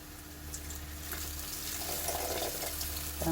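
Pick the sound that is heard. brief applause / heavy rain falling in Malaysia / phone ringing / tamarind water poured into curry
tamarind water poured into curry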